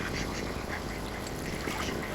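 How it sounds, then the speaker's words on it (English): Ducks quack steadily in a busy, noisy outdoor scene on a canal, their calls close and mixed with broad background rush. "They're fat ducks."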